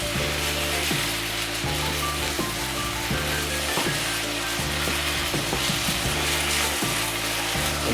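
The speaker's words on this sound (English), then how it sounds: "So we're still on a high heat. This is slowly browning off." Beef sizzling and browning in a pan over high heat for a black bean and noodle dish, a steady loud frying hiss with faint scraping stir sounds throughout, no voices.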